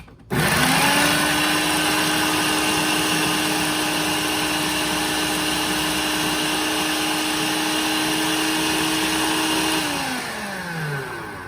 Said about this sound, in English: I'm gonna start this food processor and just get all this going.